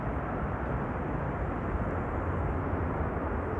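Delta Airlines jet landing at Amsterdam Schiphol with thrust reversers engaged, giving a continuous, even wash of heavy roaring noise that stays constant from start to finish, with no voices present.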